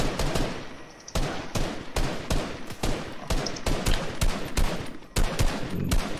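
Rapid gunshots crack out in a video game, a dense irregular volley of sharp, close bursts that keeps going throughout with only brief gaps.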